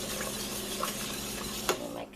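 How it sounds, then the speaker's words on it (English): Thickener is whisked into chicken pot pie filling in a pot, giving faint scraping and clinking strokes over a soft simmering hiss, with a sharper knock near the end. "let me whisk that in"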